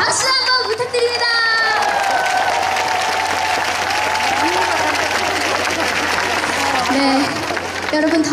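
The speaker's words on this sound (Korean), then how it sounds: "박수 한번 부탁드립니다." A large audience at an outdoor mountain temple concert at Juwangsan in Cheongsong claps and cheers loudly and without a break, with shouts and excited voices rising over the applause.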